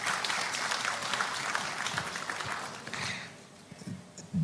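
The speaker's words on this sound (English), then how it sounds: "Let's acknowledge him with a round of applause." Audience applause at a Ghanaian government launch of the national AI strategy, a steady broad patter of clapping from a seated crowd that thins out toward the end, moderately loud and without talk.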